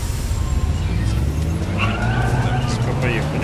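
A standard car driven through city streets in Watch Dogs: Legion, a steady engine rumble with brief tire squeal, loud and close, while someone talks over it.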